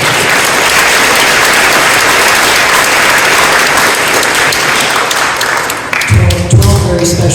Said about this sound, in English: Give her an extra round of applause.